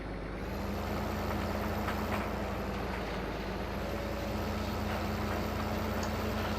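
Steady low engine drone of a big tractor in the Farming Simulator 15 farming game, running continuously with a constant hum and no breaks, fairly loud and heard with no talk over it.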